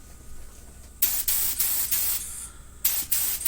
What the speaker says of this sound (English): So I'm just using a Harbor Freight gun, nothing special for the base coat.